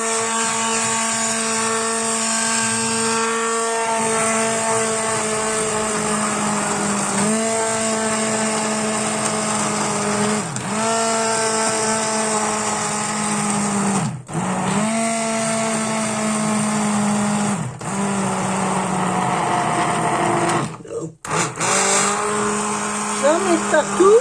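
Electric blender whirring steadily while pureeing a radish-leaf velouté, a loud continuous motor drone with brief dips and pauses as the blending stops and restarts.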